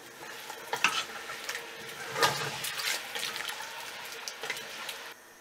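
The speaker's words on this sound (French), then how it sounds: "Je verse 75 cl de vin rouge" Red wine poured into a pot of beef bourguignon with flour-coated meat, a steady liquid splashing and sizzling close by, with brief louder surges and a quieter end.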